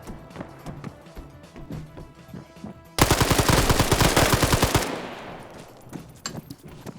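Gunfire in a PvP video game match: a loud, dense burst of rapid machine-gun shots lasting about two seconds cuts in sharply, then fades, with scattered quieter shots before and after.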